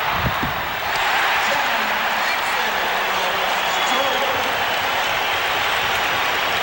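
A basketball arena crowd at an NBA playoff game between the New York Knicks and Chicago Bulls roars in a loud, sustained wall of cheering that fills the space, steady throughout with no break.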